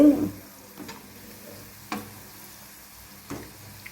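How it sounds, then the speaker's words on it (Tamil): Cauliflower 65 deep frying in oil gives a faint, low bubbling hiss, broken by a few sharp pops at irregular intervals, heard close with no talking. "அந்த சலசலப்பு அடங்கவே இல்லை"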